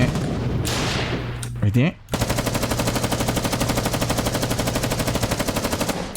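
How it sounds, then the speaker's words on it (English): Rapid machine gun fire from a battle in Black Hawk Down, a steady run of sharp, evenly spaced shots after a brief burst and pause, loud and close, with someone speaking briefly over it. "I hear gunfire here. Okay, they're fighting here."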